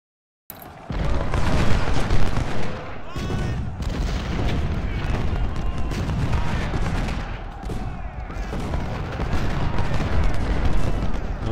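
Sustained cannon and musket fire from a Civil War battle at Chancellorsville in the strategy game Ultimate General: Civil War, with dense booming volleys and crackling gunfire filling the whole stretch without pause.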